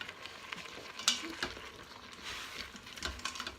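Onions and roasted hot peppers sweat in a pan, giving a steady soft sizzle and crackle with occasional stirring scrapes, moderately close and without talk.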